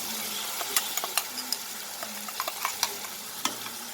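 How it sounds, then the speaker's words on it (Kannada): Masala frying in oil for kadale hittina junka, a North Karnataka gram-flour dish, with a continuous close sizzle and repeated sharp scraping taps of a spoon against the pan. "ಈಗ ಮಸಾಲೆ ಹಾಕಿದ್ದೀನಿ. ಹಸಿ ವಾಸನೆ ಹೋಗೋ ತನಕ ಫ್ರೈ ಮಾಡಬೇಕು."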